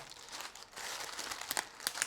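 Crinkly tearing and crackling of adhesive tape being pulled and torn against paper, steady and close, with a few sharp snaps near the end.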